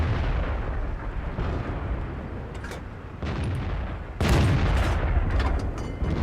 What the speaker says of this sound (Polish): Pocisk zrykoszetował.